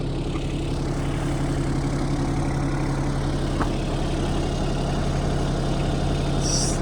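A tractor engine idles close by, steady and droning, a low rumble with constant vibration and no speech throughout.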